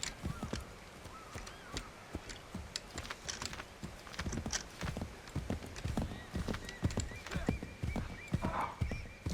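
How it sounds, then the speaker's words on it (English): A horse in Assassin's Creed III clip-clops along in quick, uneven hoofbeats, with a faint whinny, and keyboard typing clatters lightly underneath. "I don't see why you would need to rear the horse."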